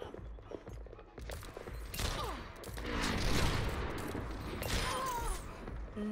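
Gunfire in a first-person shooter match, with a dense, continuous volley of shots and booms layered under game sounds and swelling in the middle of the stretch.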